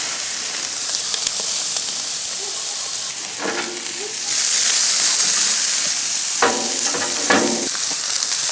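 Onions frying in rendered brisket fat (beef tallow) on a Blackstone flat-top griddle, a steady close sizzle that swells louder midway as the pile spreads, with a few scraping spatula strokes; no talking.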